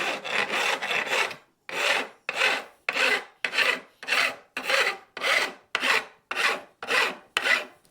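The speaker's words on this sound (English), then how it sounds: "And then I'm just going to take the same file" Steady back-and-forth rasping of a metal file beveling the ends of freshly installed frets on a thinline bass guitar, about a dozen rhythmic strokes, close and fairly loud, with no talking.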